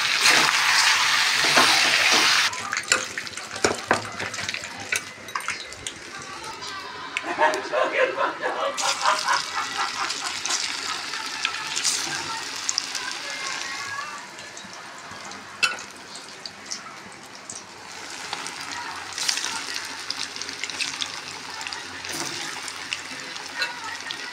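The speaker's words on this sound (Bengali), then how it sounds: "পকোড়া আমি বসিয়ে দিয়েছি, 1 কড়া প্রায় হয়ে গেছে।" Pakoras deep-frying in a kadai on a home stove, a steady loud sizzle and crackle of oil running throughout, with a person talking over it.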